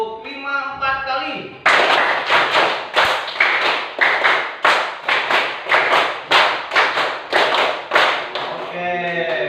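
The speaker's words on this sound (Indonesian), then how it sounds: "tepuk 5 4 kali." A class of students claps in unison, a long run of loud, evenly spaced group claps in a steady counted pattern, with a voice talking briefly at the start and end.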